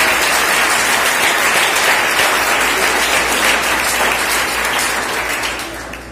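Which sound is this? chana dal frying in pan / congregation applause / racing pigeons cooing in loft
congregation applause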